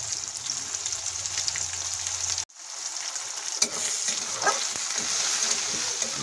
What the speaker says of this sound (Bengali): গরম তেলের মধ্যে আমি পেঁয়াজ কুচি দিয়ে দিচ্ছি,